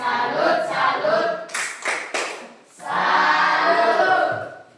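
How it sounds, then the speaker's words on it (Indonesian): Classroom applause for group 1: a burst of clapping from students, then a short rhythmic chanted salute with a few sharp claps, then more sustained clapping and voices. "Oke, tepuk tangan untuk kelompok 1."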